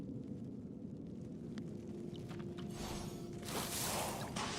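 Steady wind whooshes in the video game Aniimo, a soft continuous roar that swells louder and brighter toward the end, with faint ticks over it.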